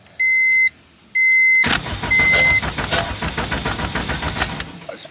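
A Honda car engine cranks without catching after two loud dashboard warning beeps, the starter churning steadily for several seconds close up.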